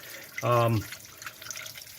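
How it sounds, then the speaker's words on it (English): Garden hose trickling slowly through the water jackets of a 1955 Chevy Bel Air small-block engine, a brief watery splash lasting under a second, then quiet running water. "just running the garden hose very slowly through the water ports, water jackets"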